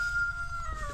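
Chickens on a homestead cluck and call softly in the background, a faint, steady fowl chatter with no talking.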